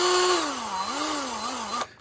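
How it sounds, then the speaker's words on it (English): Cheap little electric drill running at varying speed, its whining motor tone wavering up and down for under two seconds before cutting off abruptly. "I just wanted to test out on this cheapo little drill here"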